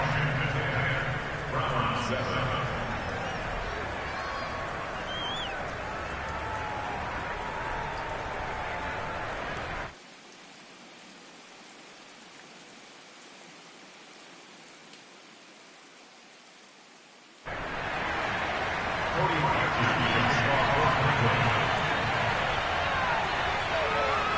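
Steady rain falling on a night football field in Madden 22, a broad hiss that drops out briefly mid-stretch before returning, fairly quiet throughout.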